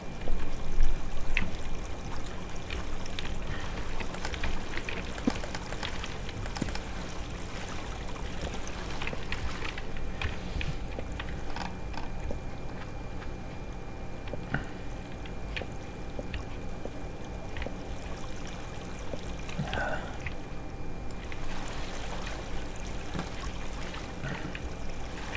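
Water flows steadily in the block-building game Minetest, a continuous trickling, pouring stream at moderate volume with faint scattered splashes and no talk.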